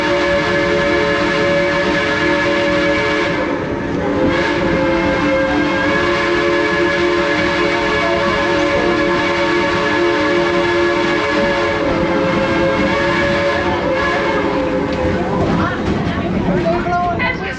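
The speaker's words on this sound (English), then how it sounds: "They're going to get ready to blow the whistle pretty soon once we get up here by the bend." Steam logging locomotive of the Cass Scenic Railroad sounds a long, steady whistle with layered tones, loud and close, over the rumble of the moving train.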